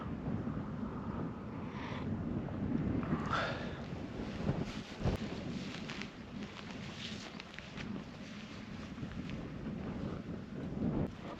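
Warm wind blowing over the Pennines hills at a wild camp, a steady, blustery rushing roar that buffets the microphone throughout with gentle swells.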